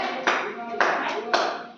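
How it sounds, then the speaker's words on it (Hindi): Students clapping in a classroom, three short bursts of hand claps, each a sharp onset trailing off, close and fairly loud. "करतल ध्वनि कहते हैं ताली बजाने को"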